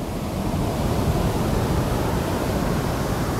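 Ocean surf breaks continuously on the sand at Praia Brava, a broad steady roar of waves heard close and loud with no voices over it.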